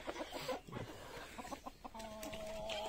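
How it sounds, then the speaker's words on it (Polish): Young laying hens cluck and chatter outdoors, with brief soft calls over a busy background of rustling and farmyard noise that rises toward the end; no one speaks. "O, widzę, że młode nioski też już wychodzą powoli na dwór."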